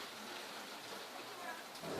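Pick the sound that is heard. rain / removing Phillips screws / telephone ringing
rain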